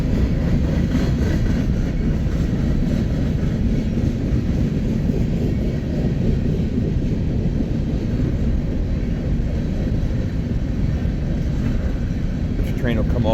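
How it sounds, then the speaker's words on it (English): BNSF freight train on the Sioux City Subdivision at Winslow, Nebraska, a steady low rumble and roar that holds throughout at constant loudness, with no break. "This train will come off the main here and work the loop in Oakland."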